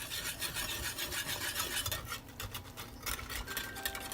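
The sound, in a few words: whisking a mixture with a whisk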